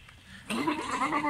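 A goat bleats at a livestock market in Pakistan: one loud, close, wavering bleat begins after a short quiet moment and runs to the end.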